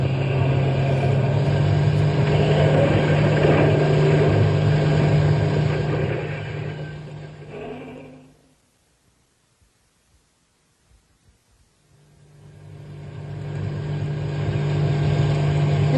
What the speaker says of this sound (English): I'm going as fast as the truck will go.